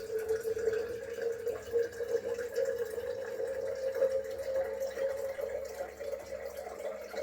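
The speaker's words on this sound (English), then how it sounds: "We have water pouring out." Water pouring from a fresh water tank in a steady, faint trickling stream that runs continuously and unbroken, close by.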